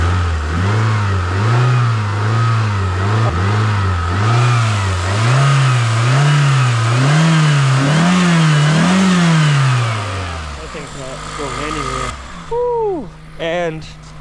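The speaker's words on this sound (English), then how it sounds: "So as you can hear, we are good. There's no vibrations at all, and that engine mount was messed up so bad." A front-wheel-drive car engine with a freshly repaired engine mount runs smoothly, revving up and down in repeated swells before settling toward idle, close and loud, with a voice speaking over it near the end.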